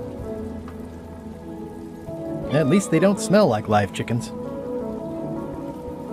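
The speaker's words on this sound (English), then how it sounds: "Driving rain and crashing waves." Driving rain and crashing waves in the Return to Monkey Island video game, a steady wash of rainfall running through the whole stretch while a character speaks briefly in the middle.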